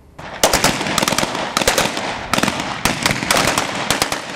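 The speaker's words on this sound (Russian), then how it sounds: "Взрывы, стрельбы, бомбардировка." Rapid bursts of gunfire crackle with sharp explosive pops, loud and close, continuing without a break, during a Rosgvardia storming exercise in Dagestan.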